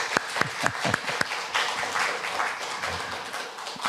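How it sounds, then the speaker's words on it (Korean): A church congregation at a Sunday service claps in celebration, starting with a few sharp, distinct claps that swell into a steady wash of applause. "축하의 박수 우리 권사님께 한번 드립시다"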